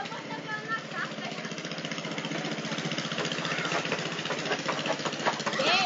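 A rabeta longtail outboard motor drives a canoe through flooded riverside waters, its steady, rough mid-pitched chugging running continuously at close range and swelling slightly toward the end, with faint voices in the background.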